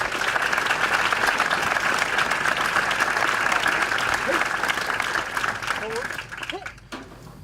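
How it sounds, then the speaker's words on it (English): Audience at an Army 8th Regiment Advanced Camp graduation ceremony applauding the awardees: steady, full crowd clapping that continues for several seconds before tapering off near the end, with faint voices beneath. "Ladies and gentlemen, let's give our awardees a round of applause."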